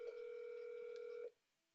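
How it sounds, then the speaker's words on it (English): A single steady electronic ring tone from an inbound call in a Fastcall soft phone widget, one clean sustained beep of about a second that then cuts off to near silence. "the call is going to ring in the widget"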